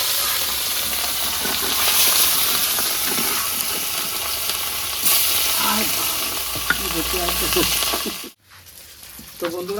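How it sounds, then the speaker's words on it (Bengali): Rohu fish fries in hot mustard oil with a dense, steady sizzle and hiss, dotted with stirring scrapes and spatters, before the sound cuts out abruptly near the end. "মাছ ভাজার জন্য দিয়ে দেবো সরষে তেল।"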